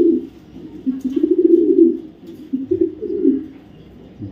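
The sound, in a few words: male BRPFC racing pigeon cooing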